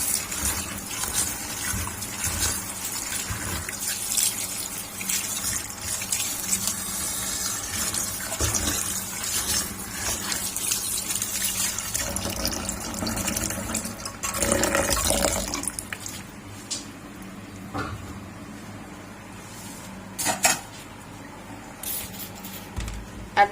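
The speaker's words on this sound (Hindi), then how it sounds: "अब खुले बर्तन के अंदर पानी ऐड करेंगे इस तरह से और इसे वॉश करेंगे 3 से 4 मरतबा।" Water poured into an open pot to wash chopped spinach in a home kitchen: a steady splashing, running pour that swells around the middle, then settles into quieter sloshing with a few sharp splashes near the end.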